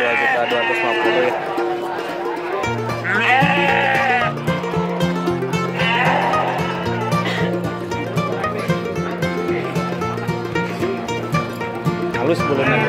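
Merino sheep bleat repeatedly nearby at a livestock market, over a busy background of music and chatter, the calls rising and falling in short wavering cries.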